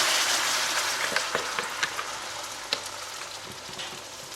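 Chilies hit about a quarter cup of very hot canola oil in a pan, giving a bright, steady sizzle with scattered crackles and pops.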